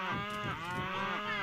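Cartoonish cow moos from the Tasty Planet video game, a continuous low, wavering bellow with layered harmonics filling the whole moment, loud and alone without speech.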